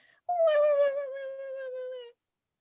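A person imitates a frightened dog whimpering at noise outside, a single drawn-out high nasal whine that slowly falls in pitch, close and clear, during an online improv show.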